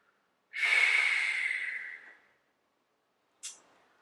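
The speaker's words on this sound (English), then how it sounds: "And breathing, breathing," One long, deep, close exhale of breath lasting over a second during self-massage with a Theracane on the piriformis, followed by a short sharp sniff after a silent pause.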